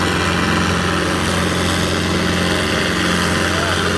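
Loud, steady engine drone from an Arjun 605 and a Sonalika 60 tractor straining in a tochan pulling contest, a dense continuous rumble with low harmonic hum, close and unbroken.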